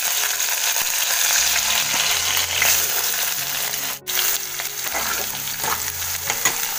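Onion frying in a pan with mustard seeds, green chilli and curry leaves for vermicelli upma, a loud continuous sizzle with stirring scrapes and a brief sharp knock near the middle, close and without talk.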